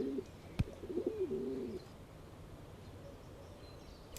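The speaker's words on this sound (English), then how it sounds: "I think the pigeon enjoyed it too." A pigeon coos in a short burst of low, warbling calls near the start, then fades into quiet ambient background.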